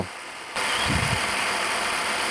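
An ultrasonic glasses cleaner switches on abruptly with a steady, soft electric buzz and keeps running, a faint vibrating hum heard close up with no talking.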